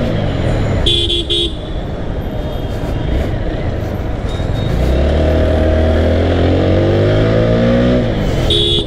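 An Apache RTR 4V FI ABS motorcycle ridden in city traffic: the engine drones steadily, then rises and revs as it accelerates, with short car horn toots around it and constant wind rush, loud and close.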